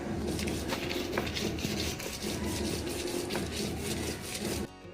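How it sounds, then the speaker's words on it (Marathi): Coriander, garlic and green chillies are ground by hand on a traditional stone slab, giving a continuous close gritty rubbing and scraping with a steady back-and-forth texture that stops abruptly near the end. "ही कोथिंबीर पण आपल्याला अशी वाटणात वाटून घ्यायची"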